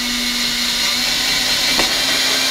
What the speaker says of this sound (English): I'm gonna drill into the cap.